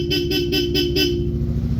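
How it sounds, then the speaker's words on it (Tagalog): A Bosch Europa horn fitted to a Yamaha XMAX300 V1 scooter honks in five rapid, evenly spaced loud blasts, then a steady engine idle rumbles on alone. "So mag-activate po yung rapid pag nilong press yung horn button, rapid."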